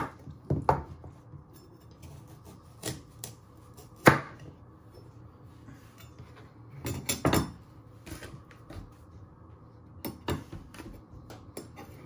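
A knife chops the ends off parsnips on a board, giving sharp, isolated cuts spaced a few seconds apart, some landing as quick double knocks, against a quiet room with no talk.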